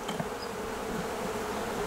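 Honey bees from a swarm collected a week earlier buzz steadily on a hive frame, a dense close drone with no voices.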